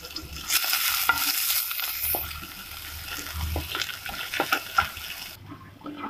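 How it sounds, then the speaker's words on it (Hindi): Oil sizzles and crackles steadily as onions fry in a pan, with occasional stirring scrapes, close and fairly loud, no voices. "अब इसमें डालेंगे प्याज, इसको हम हल्का सा गोल्डन ब्राउन कर लेंगे।"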